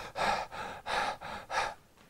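A man imitates someone gasping for air after running, giving three loud, breathy pants in even succession, each harsh rush of breath separated by a short pause.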